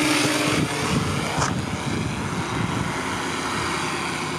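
A PowerEYE m43 quadcopter drone makes a flyby outdoors. Its loud, steady propeller whine and rushing drone dominate throughout and shift slightly in pitch as it passes.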